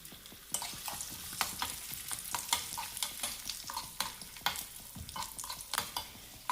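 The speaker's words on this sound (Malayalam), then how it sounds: "നെയ്യ് ചൂടായിട്ടുണ്ട് അതിലേക്ക് ആദ്യമേ നട്ട്സ് ചേർക്കാം അതിലേക്ക് കിസ്മിസും കൂടെ ചേർക്കാം" Cashew nuts and raisins fry in hot ghee in a pan and are stirred as they cook, giving a close, steady sizzle with repeated scraping clicks from a spoon and no voices.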